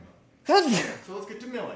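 A person sneezes once, sharply and close, during a home deck project turning windows into French doors; talking follows.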